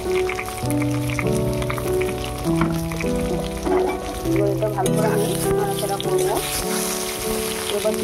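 Potatoes stirred into a frying spice mix in a pan, a steady sizzle and scraping under continuous loud background music.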